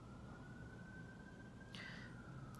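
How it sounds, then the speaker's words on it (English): A distant emergency vehicle siren passing outside wails steadily in the background, faint and continuous, with a brief higher burst of noise partway through. "Oh, sorry about the siren"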